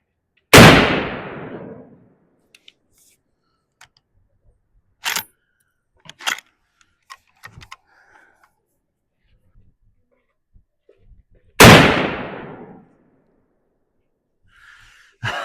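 Two loud, close rifle shots from a Henry Long Ranger .308 firing Federal 150 grain ammunition at a 100-yard range, each a sharp blast with a decaying tail, about eleven seconds apart, with quiet clicks and handling sounds between.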